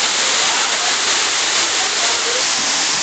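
An artificial waterfall cascades in a theme park queue, a loud, dense, unbroken roar of falling water close by.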